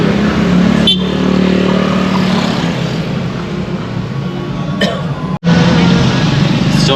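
Heavy road traffic on a congested mountain road, a continuous rumble of car and motorbike engines at close range, with people talking over the noise and a brief cut near the end.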